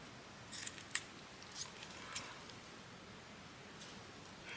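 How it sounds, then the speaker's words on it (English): Fabric scissors cut fabric with a few quiet, crisp snips, spaced irregularly over a faint background hush. "I could do actually with my fabric scissors."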